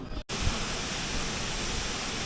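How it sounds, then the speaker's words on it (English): Water gushing out of a pipe beside a swing bridge in Nepal pours down like a waterfall, a loud, steady, broadband roar that starts abruptly after a brief gap and holds without pause. "That's the most spectacular waterfall out of a pipe I've seen."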